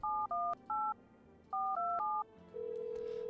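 Telephone keypad tones from a phone in a video game, a quick run of dual-tone beeps in short bursts with brief gaps, followed by a steady tone, clear and close.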